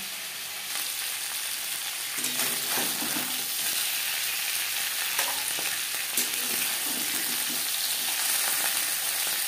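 Fish heads frying in hot oil in a wok for a Bengali fish head kalia, a steady dense sizzle with intermittent scraping and clinking of stirring throughout, close and alone.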